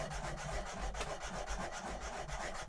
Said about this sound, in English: We'll start with maybe a wet cloth and see what we can do with just that.